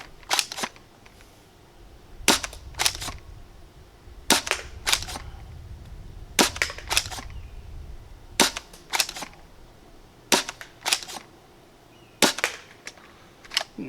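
A foam dart blaster fires Worker purple-tip darts in a series of sharp, snappy cracks, roughly a dozen shots in irregular pairs and singles separated by quiet pauses, close and fairly loud.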